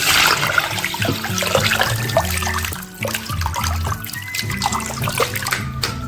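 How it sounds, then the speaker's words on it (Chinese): Chopped pork ribs cut into small pieces are rinsed with cold water in a bowl, making continuous close splashing, pouring and trickling water sounds with no talking. "泡出来血水，水倒了，多冲洗上几遍"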